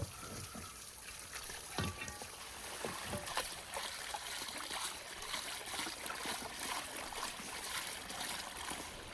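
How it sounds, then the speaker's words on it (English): Meat is washed under running water outdoors in the wilderness, with a soft trickle and splashing and scattered handling knocks, fairly quiet and without talk. "The meat must be thoroughly washed."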